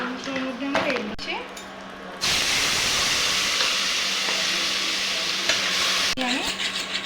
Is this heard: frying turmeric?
yes